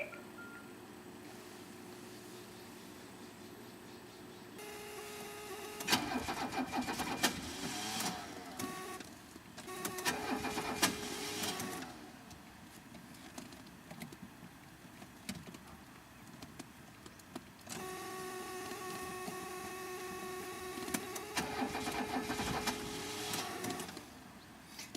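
A car's failing starter cranks in repeated bursts with pauses between them, whirring and grinding without the engine catching, heard close by and with no talk.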